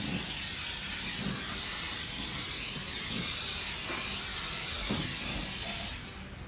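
Steady, loud hiss of a steam cleaner spraying pressurized steam continuously while detailing a Tesla car, easing off near the end, with faint clatter underneath and no talking.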